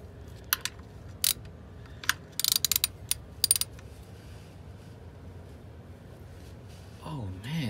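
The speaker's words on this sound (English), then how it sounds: "so this drain plug, the bolt itself is a 15 millimeter. Got my socket right here." Ratchet with a 15 mm socket working a tight car oil drain plug on a Cadillac Escalade ESV 6.0L V8, giving several short bursts of sharp clicking, quiet and close, followed by a low mechanical hum.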